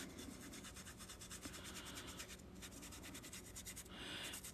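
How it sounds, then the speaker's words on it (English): A brush scrubs watercolor paint into paper with continuous, quiet, close-up rubbing strokes in a loose repeating rhythm. "I'm just gonna scrub this."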